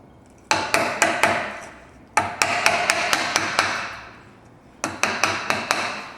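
Hammer blows drive a chisel to cut out the housing of a cross halving joint, landing in three bursts of quick, sharp, evenly spaced strikes with short pauses between them.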